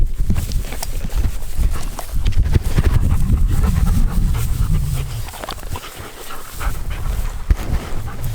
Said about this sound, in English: She's a Brindle Anatolian, and he is a Maremma Central Asian Shepherd Cross.